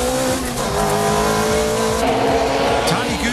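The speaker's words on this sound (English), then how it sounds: "Taniguchi's S15 accelerating at the S-curve exit, but Tsuchiya's MRS won't let him go" A Nissan S15 and a Toyota MR-S race downhill on a mountain touge road, engines revving hard with rising and falling pitch and tires squealing through the S-curves, loud and close throughout.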